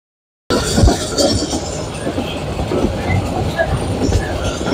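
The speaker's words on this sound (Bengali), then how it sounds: "আমাদের ট্রেন ছুটে চলেছে শায়েস্তাগঞ্জের দিকে" The Kalni Express passenger train from Dhaka to Shaistaganj rumbles along steadily, with continuous loud wheel and carriage noise and occasional clacks over the rails, starting after a brief silence.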